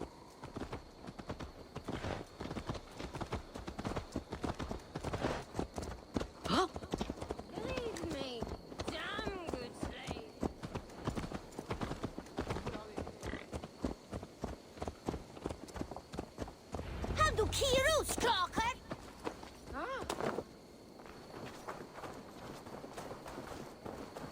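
Horse hooves clip-clopping on the ground in the Assassin's Creed Valhalla video game, a steady rhythmic trot heard under game dialogue and background music.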